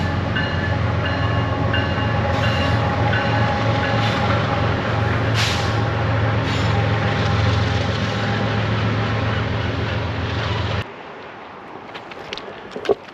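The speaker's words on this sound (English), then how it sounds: "we got a train coming through, so I'm going to have to wait out this train" A train rumbles steadily past nearby at Moyie Lake with a continuous low roar and rattling wheels, then cuts off abruptly, leaving quieter outdoor noise.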